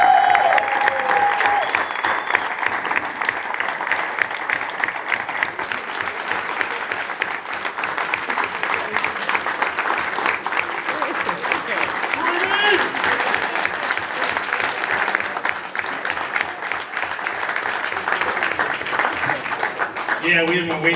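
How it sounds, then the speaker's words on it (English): Applause and cheering from a hall of fame ceremony audience go on steadily for about twenty seconds, dense and loud, with voices mixed into the crowd noise. "you can applaud it"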